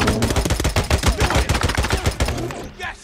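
Rapid automatic gunfire from the video game Days Gone, loud and close, a dense burst of repeated shots lasting several seconds before cutting off.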